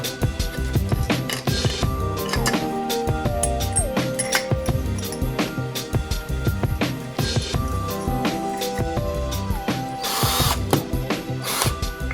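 Wire winds from a 5 kg spool onto a smaller spool on a makeshift winding rig, with a busy stream of ratcheting clicks and whirring mechanical rattles sustained at close range.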